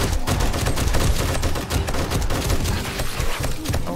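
Dense, loud rapid-fire gunfire comes from a weapon in the video game 7 Days to Die during a Blood Moon horde fight, with shots crackling continuously in a sustained barrage.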